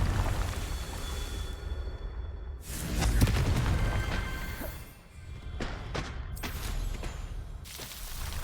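Confringo fire spells explode in Hogwarts Legacy: several booming, crackling blasts with rumbling tails, strongest in the middle and followed by a run of sharp bursts.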